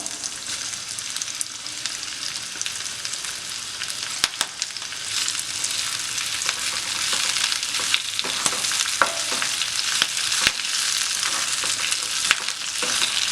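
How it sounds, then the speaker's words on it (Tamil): Curry leaves being sautéed in a pan, giving continuous close frying crackle and sizzle with scattered sharp pops and spatula scrapes, steady throughout, no talk. "இந்த கருவேப்பிலை போட்டதுக்கப்புறம் நீங்கள் ரொம்ப வதக்க வேண்டாம், லைட்டாக வதக்கினா போதும்."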